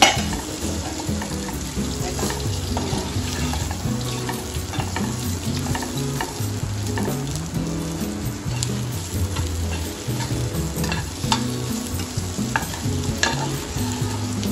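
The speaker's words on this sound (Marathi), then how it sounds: "आपला मसाला थोडा भाजत आलाय, तर यामध्ये थोडंसं मी तेल टाकणार आहे" Oil hits roasting masala in a pan for an egg curry, giving a loud, continuous close-up sizzle with busy stirring and scraping throughout, no voices.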